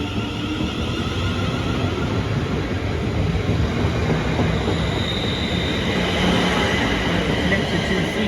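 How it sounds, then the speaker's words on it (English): A train pulls out of Bletchley station with a sustained, loud rumble of wheels and carriages rolling along the rails, a steady roar that fills the whole stretch while a person's voice is briefly heard. "Right, there goes my train."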